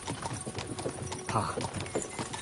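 Horse hooves clip-clop in a steady, brisk rhythm from a horse-drawn ride in the medieval game Kingdom Come Deliverance 2, close and continuous over a low rumble of movement.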